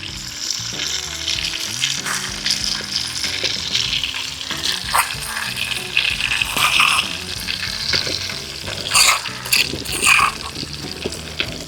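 Butter, oil and pounded garlic chili paste sizzle steadily in a pan, a loud continuous frying crackle with occasional stirring scrapes and bright spattering pops toward the end.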